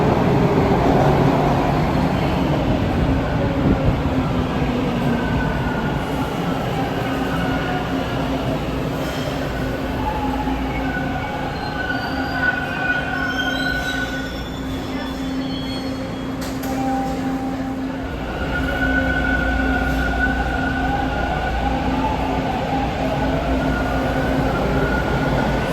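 Toronto subway train in motion, a steady rumble with metallic wheel squeals and whining tones rising and falling over the roughly 26-second ride, loud and close from inside the car.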